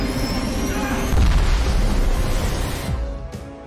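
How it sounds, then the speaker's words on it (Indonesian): A turbine explodes in a dramatic TV scene, a deep booming blast that swells and rumbles loudly for a couple of seconds before fading into a lower roar with a faint hiss. "turbin kelima kelebihan beban dan akhirnya meledak"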